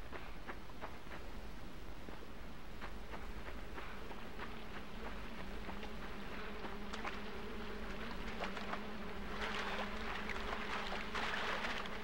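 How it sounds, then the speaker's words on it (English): Flies buzz in the dark side-scrolling game Limbo, a continuous swarming drone with scattered clicks and soft footstep-like taps under it, steady and moderately faint throughout with no voices. "Guess those are flies instead of bees."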